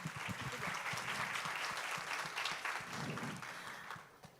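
Steady applause from an audience at a panel talk, a sustained wash of clapping that continues for several seconds before tapering slightly at the end.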